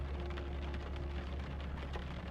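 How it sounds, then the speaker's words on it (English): Steady rain falls throughout as a soft, continuous hiss of drops on a surface, with a low ambient rumble underneath and no voices, an even, enveloping wash of sound. "Through the window, the rain has softened to a mist,"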